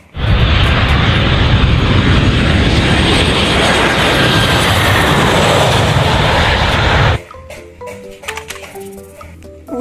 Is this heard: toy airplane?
yes